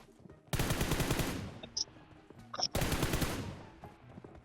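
Two long, loud volleys of rapid gunfire from the video game PUBG Mobile come close together, separated by a short lull with a few sharp metallic clicks.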